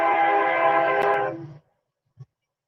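A train sounds its horn close by, a loud sustained blast lasting about a second and a half before it fades out, followed by a brief faint thump.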